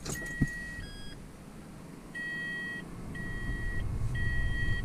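A 9-inch aftermarket stereo head unit booting up in a Smart ForTwo 453, sounding a series of clear electronic startup beeps and tones in short repeated bursts over a low cabin hum.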